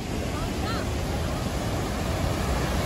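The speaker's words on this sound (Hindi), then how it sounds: "पानी की रफ्तार देखो कितनी तेज है यहाँ पे, और ये सारा बाहर डैम से आ रहा है पानी" Fast water released from Maithon Dam in Dhanbad rushes past in a loud, steady roar, mixed with wind buffeting the microphone.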